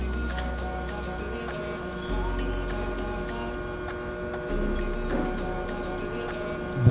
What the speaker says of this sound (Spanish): Buen sonido el de la rueda de color, me gusta bastante y los ventiladores tampoco hacen ningún ruido extraño